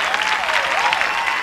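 Studio audience applauding enthusiastically as a talk-show host makes her entrance, a dense, loud, continuous wash of clapping with no talk over it.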